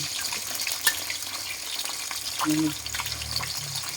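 Fish frying in hot oil in a home kitchen, giving a steady close sizzle with watery crackle and a brief bubbling swell; someone speaks faintly.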